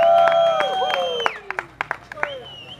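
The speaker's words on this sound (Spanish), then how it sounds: "yo les voy a pedir una bulla y un aplauso para" Cheering voices and whistles from a crowd at a music venue in Medellín, tapering off into a few scattered sharp claps, with people talking under it.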